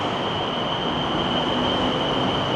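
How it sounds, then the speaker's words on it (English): A four-car BTS Skytrain rumbles steadily into a station in Bangkok, a constant low roar with a high whine held throughout. "So you see here's the Skytrain coming in."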